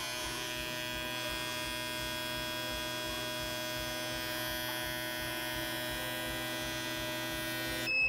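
An Autool CT160 injector tester running a high spray volume test at about 80 PSI, giving a steady electric hum and buzzing whine that holds unchanged throughout, close and fairly quiet.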